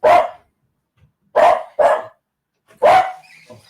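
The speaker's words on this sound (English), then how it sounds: "So Medic was actually barking at the studio audience." A dog gives four loud, close barks in short bursts, one alone and then a quick pair, with a final bark after a pause, set against near silence.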